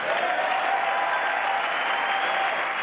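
Democrats in the House chamber applauding Biden's speech, a steady, dense wash of clapping from a large crowd with no pauses.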